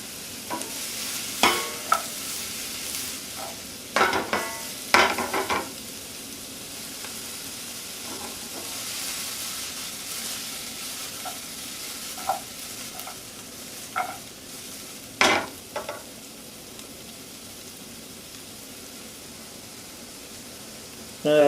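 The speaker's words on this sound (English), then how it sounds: "Sauteing them helps to start loosening up the natural flavors in them so that they can release into the soup." Onions sauteing in a pot for turkey soup give a steady low sizzle, with intermittent stirring clatter and scrapes rising above the frying hiss at close range.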